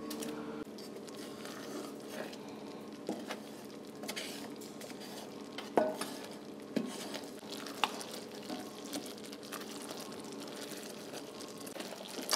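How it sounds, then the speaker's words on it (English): Caramel with butter is stirred constantly in a pot, giving soft continuous bubbling and sizzle broken by scattered light clicks and scrapes of the utensil against the pot. "I've been standing here stirring it constantly."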